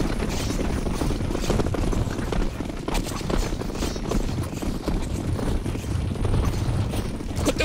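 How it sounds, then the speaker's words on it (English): A steady rotor chop of a helicopter in the video game Counter-Strike 2 whirs throughout, loud and continuous with dense low rumble, no voices over it. "I think that's a helicopter."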